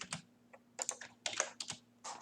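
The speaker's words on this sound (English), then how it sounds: "that's literally me pressing down the keyboard normally" Keys on a computer keyboard pressed at a normal pace, a quick irregular run of close, crisp clicks and clacks in small bursts with short pauses between, alone over a faint steady hum.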